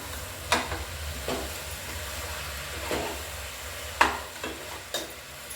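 A spoon scrapes and stirs ground paste into country chicken gravy in a pot, with a few sharp strokes over a steady low sizzle and no talking.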